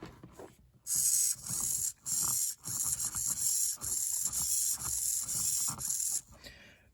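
An MG996R high-torque servo driven by a servo tester, its gears whirring in repeated bursts of a second or so with brief pauses between them, close and fairly loud with no voices.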